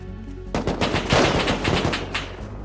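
Rapid automatic gunfire from the survival game Rust rattles in dense, loud bursts, with the shots starting abruptly after a moment of low background and continuing steadily to the end.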